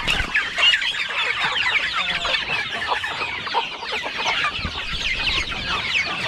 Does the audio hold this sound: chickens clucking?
yes